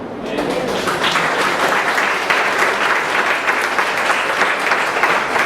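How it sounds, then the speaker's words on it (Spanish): A church congregation applauds to honor the Lord during a Spanish-language sermon on Noah's obedience, with dense, steady clapping that fills the room and continues unbroken without letting up. "¿Cuánto le damos un aplauso al Señor?"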